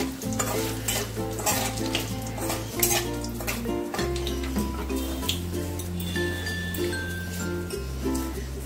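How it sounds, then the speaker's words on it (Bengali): Cardamom, cloves and cinnamon fry in hot oil with a steady sizzle while a utensil scrapes and clinks against the pan. "ফোড়নটা ভালো করে ভাজা হয়ে গেছে"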